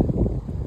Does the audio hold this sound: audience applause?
no